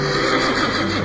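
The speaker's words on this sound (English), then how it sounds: "There came a day when Philonicus the Thessalian brought Philip a horse named Bucephalus" A horse neighs loudly across the whole moment, a sustained whinny over a steady wash of background noise, with no voices present.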